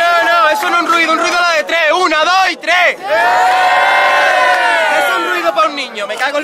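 A crowd at a Spanish rap battle roars, cheers and shouts continuously, with a loud, dense wall of voices and whoops swelling and dipping briefly around the third second.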